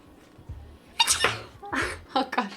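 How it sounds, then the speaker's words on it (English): A woman sneezes several times in quick succession, close by: sharp, breathy bursts with short pauses between them and faint background noise. "I have to sneeze."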